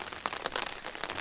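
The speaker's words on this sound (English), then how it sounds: "because of the really loud noise of the rain" Heavy rain drums steadily on an umbrella, a dense, close patter with scattered sharper drops standing out, loud and continuous with no talking.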